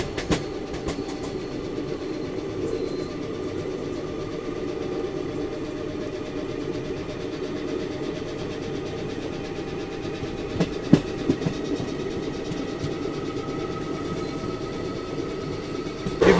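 Chalukya Express, train 11021, running on the rails in monsoon weather, heard from inside an ICF 2AC coach: a steady, close rumble of wheels and coach with faint rattles and a few sharper clacks later on.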